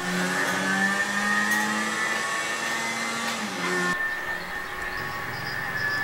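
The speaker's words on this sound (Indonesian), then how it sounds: "Ini suara motor ini." A motorcycle engine drones steadily with harmonic tones, shifting pitch partway through as it changes speed, fairly close and continuous.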